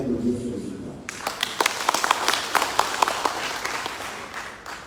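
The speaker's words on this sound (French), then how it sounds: "il faut féliciter et applaudir ce résultat" Applause breaks out at an opening ceremony in a palace hall, following a brief stretch of speech; many hands clap with distinct sharp peaks, moderately loud and sustained.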